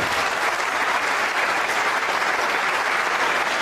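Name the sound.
crowd applauding a billiard shot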